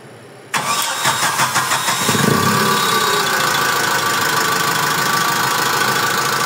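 A Sepahan forklift engine, recently repaired and suffering from a knocking fault, cranks and catches, then settles into a steady, loud idle with a persistent rapid knock running through it, with no voices.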